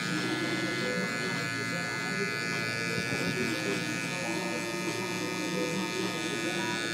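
Hair clippers fitted with a one guard and the lever open buzz steadily while cutting hair for a high taper, a continuous close electric hum with a faint talking voice underneath.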